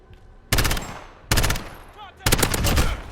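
An MP7 submachine gun fires three short, sharp full-auto bursts in a Modern Warfare match, loud and up close with brief gaps of quiet between them.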